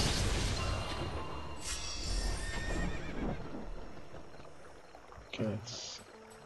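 A horse neighing and whinnying in the mobile video game Era Origin, heard among hoof clip-clops and flowing water ambience, with a brief sharper call near the end.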